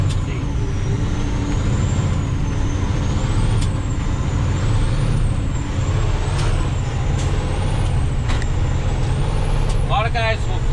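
A truck gearbox being shifted through high and low range, with steady engine rumble throughout, air hisses and faint clicks from the shifts, and someone talking over it.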